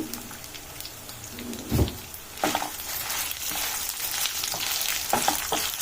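Dried red chillies fry in a pan on low heat for mint chutney, a crackly sizzle broken by a few louder stirring scrapes and pops.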